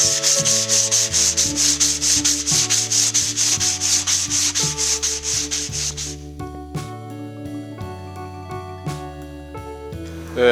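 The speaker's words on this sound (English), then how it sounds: "The sanding is going pretty well," Rapid rhythmic rubbing of 180-grit sandpaper on a metal flat trailer frame, steady back-and-forth strokes for about six seconds, then quieter scraping strokes, with a tonal hum running underneath throughout.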